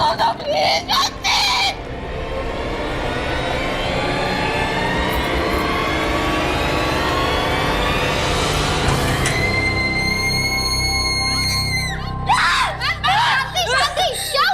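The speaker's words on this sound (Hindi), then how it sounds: "आप इतना चीख क्यों रही थी?" A woman screams in a long, loud, rising wail lasting several seconds, then higher piercing shrieks follow, with short bursts of other voices at the start and end.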